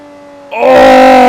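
A Lamborghini Reventón V12 starts from a low steady drone and then swells sharply into a loud, sustained high-pitched rev that holds near and strong to the end.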